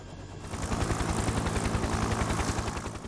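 A helicopter in a children's cartoon: steady, fast rotor chopping with a rapid rhythmic beat, loud and close, running continuously with no talk.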